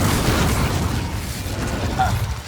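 The Incendio fire spell goes off in Hogwarts Legacy as a low, rumbling burst of flame that roars briefly and then trails off, with a faint chime near the end.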